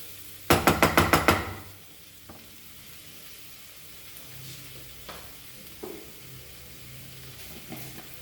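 Masala frying in a pan for a Goan squid chilli fry, opening with a quick burst of loud knocks and then a soft, steady sizzle with occasional faint clinks.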